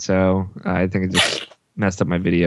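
A single sharp sneeze bursts out mid-conversation on an online gaming podcast call, sitting between stretches of close, clear talk.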